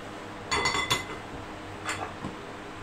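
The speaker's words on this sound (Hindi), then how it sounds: "और ये इसमें डालूंगी मैं ये अंगूर जो मैंने धो के काट के रखे हैं।" Chopped, washed grapes are dropped into a bowl for a cream fruit chaat, giving a quick cluster of light clinks and taps followed by a couple of fainter knocks.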